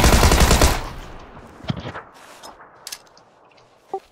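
A loud burst of rapid automatic gunfire in a video game opens the moment, then breaks off into a few scattered, fainter distant shots and clicks.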